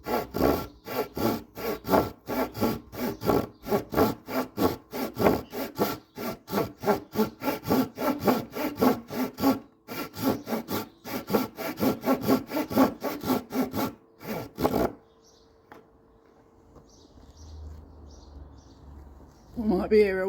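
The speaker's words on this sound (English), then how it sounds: "then you do your sawing motion" A hand saw rasps through wood in steady back-and-forth strokes for about fifteen seconds, then stops, leaving quiet background with faint birdsong.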